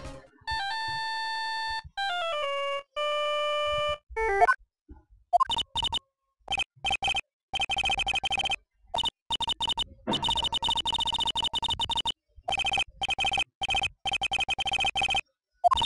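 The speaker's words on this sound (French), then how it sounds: "Un coup de téléphone" Telephone ringing in the Phoenix Wright Ace Attorney Justice For All video game: clear electronic ring tones in repeated bursts, followed by choppy beeping game sound effects, with no voices.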